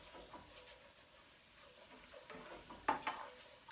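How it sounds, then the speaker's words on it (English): A whisk stirs a gravy slurry in a hot pan, with faint, soft scraping and light clinks against the metal close by in a quiet kitchen. "And I'm switching now to my whisk."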